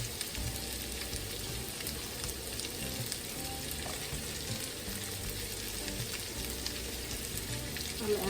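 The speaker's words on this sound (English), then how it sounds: "we're going to go ahead and saute these onions and get them cooked up where they're translucent" Onions and an egg mixture sauté in a hot pan, a steady close sizzle and crackle that runs unbroken throughout with faint stirring touches and no voices.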